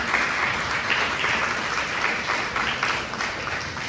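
A church congregation applauds loudly, the dense, sustained clapping filling the room evenly from start to finish.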